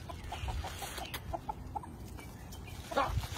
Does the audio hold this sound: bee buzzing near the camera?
no